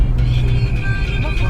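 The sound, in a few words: car driving fast on the Delhi–Mumbai expressway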